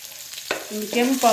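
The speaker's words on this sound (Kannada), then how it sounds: "ಬೆಳ್ಳುಳ್ಳಿ ಕೆಂಪವನ ಮುಟ್ಟ ಫ್ರೈ ಮಾಡ್ತದೆ" Garlic fries in hot oil for a tempering: a close, hissing sizzle that jumps louder midway and keeps crackling and bubbling to the end, with no speech.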